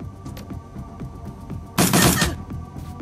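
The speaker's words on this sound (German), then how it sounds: "mach mal deinen super Schuss" Gunfire from the video game Shadowrun: Dragonfall: a single loud, dense burst of shot noise lasting about half a second, standing out against a low murmur of game background sound.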